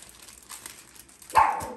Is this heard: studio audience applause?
no